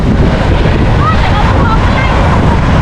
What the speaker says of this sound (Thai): ตรงตรงแถบนี้ลมแรงมากเลย